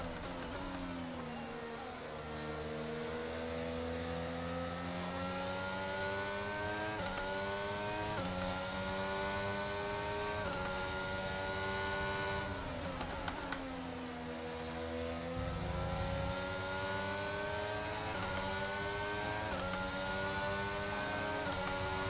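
F1 2022 Formula One race car engines scream continuously, several cars close together with rising and falling revs as gears shift through a race, loud and steady throughout with no talking.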